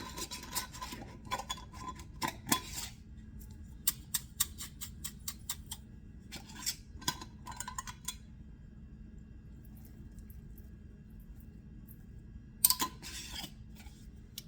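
A container of Cajun herb mix is shaken in bursts, its dry contents rattling in short, sharp clusters of ticks with quiet gaps between, close by and fairly soft in a still room.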